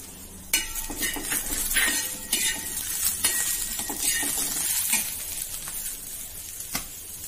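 Onion, green chilies, garlic and ginger roast in a pan with a soft steady sizzle, punctuated by clinks and scrapes of a metal spoon against the vessel, close and alone.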